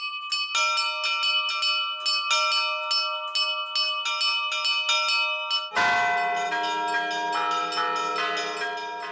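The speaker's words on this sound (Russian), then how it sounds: "И только потом вступают колокола." Monastery church bells peal before midnight, a rapid cascade of bright strikes that swells when a deep, heavy bell joins partway through, all ringing loud and sustained with no voices.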